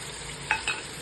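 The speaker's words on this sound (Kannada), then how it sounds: "ಇದನ್ನು ಚೆನ್ನಾಗಿ ಮಿಕ್ಸ್ ಮಾಡ್ಕೊಳ್ಳಿ." Curd being stirred into a frying mutton biryani masala in a pan, with a steady faint sizzle and two brief scraping stir sounds, nearby, no talking.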